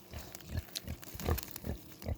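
A sow grunts on a farm in a series of low, rough snorts that repeat every half second or so, fairly close and moderately loud with no talk.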